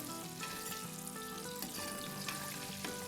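Fish sticks fry in hot oil with a continuous soft sizzle, and a spoon gently knocks against the pan several times.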